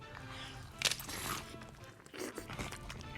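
A few sharp crunchy bites into a crispy Japanese karaage fried chicken sandwich, close up, with brief chewing crackle between them and no talking.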